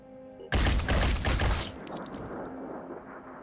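Gunshots hit an enemy at close range in a video game: a loud rapid burst of fire that lasts about a second, then fading rumble and debris.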